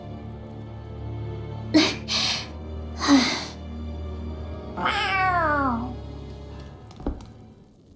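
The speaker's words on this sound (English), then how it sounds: "A cat?" Cat meows from the video game Tales of Arise, with three distinct meows, the last a longer drawn-out cry, over a low game backdrop.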